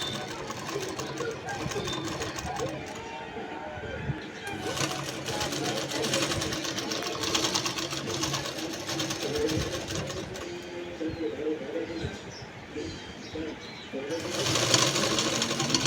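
A sewing machine stitches a princess-cut blouse with a continuous mechanical whir and rapid needle chatter, speeding up and slowing between runs, while someone talks over it.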